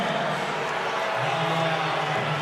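Hawks fans in a basketball arena crowd, Illawarra Hawks versus South East Melbourne Phoenix, roaring and yelling in a continuous dense wash of noise, loud and sustained, with a commentator's voice faintly mixed in.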